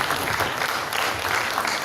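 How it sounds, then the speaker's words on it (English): An audience at a youth leaders' summit in Southern Kaduna keeps clapping, a continuous, moderately distant patter of many hands at even loudness, with no clear voices over it. "Please keep clapping for them as they come up, please."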